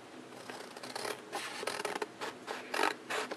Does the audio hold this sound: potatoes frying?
no